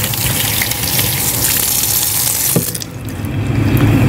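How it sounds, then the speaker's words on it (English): Warm water gushes loudly from a tap into a sink during handwashing, a steady rush that briefly dips and changes tone partway through before flowing strongly again, with no talking. "So I'm going to turn on my warm water and wash."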